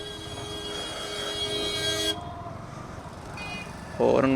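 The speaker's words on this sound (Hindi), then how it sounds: "हॉर्न बजाते रहते हैं जैसे सर के ऊपर से निकलेंगे अगले बंदे के।" Vehicle horns honk in busy traffic on an Indian road, a long sustained blare followed by shorter toots over steady road noise and a voice speaking.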